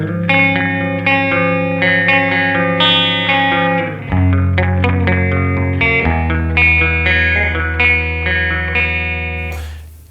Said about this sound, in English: Turning it fully counterclockwise, we get the shortest delay time